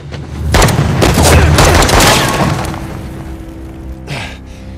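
Loud bursts of gunfire and booming blasts from a firefight in the video game Uncharted: The Lost Legacy, with rapid shots packed into the first half, then a single later shot as the noise fades.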